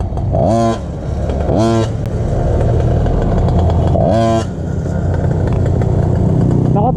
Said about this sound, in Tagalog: Tushu, high RPM